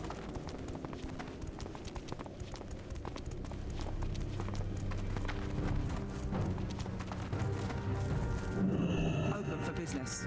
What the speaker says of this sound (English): I believe the horses are ready.